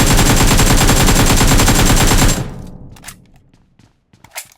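Rapid automatic gunfire from the video game PUBG, a loud continuous burst of shots for about two seconds, then cutting off to a few scattered fainter shots and impacts.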